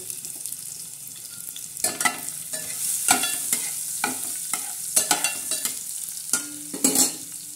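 Garlic and a little cumin fry in hot oil for a tadka for a brinjal-potato fry, a steady sizzle broken by repeated spoon clatters and scrapes against the pan, close and fairly loud.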